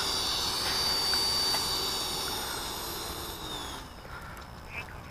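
A Freewing Rebel V2 RC jet model taxiing on the ground gives off a steady, fairly loud high-pitched whine and rushing hiss that gradually winds down and fades near the end.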